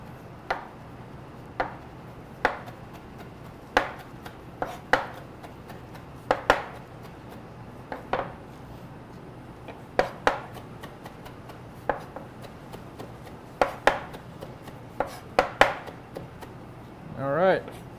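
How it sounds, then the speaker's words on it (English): A knife rough-chops parsley on a cutting board in a cooking-class setting, sharp irregular taps repeating every second or so with a brief quicker flurry near the end, close and fairly quiet. "We'll just rough chop some parsley in there just to get some color."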